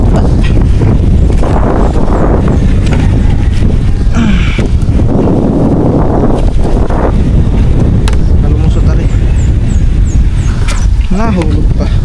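Strong wind roars and buffets the microphone continuously, with faint voices and occasional background sounds under the gusts.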